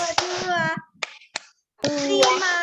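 A fourth-grade class plays a clapping game, giving a few sharp, scattered hand claps amid children's chanting voices.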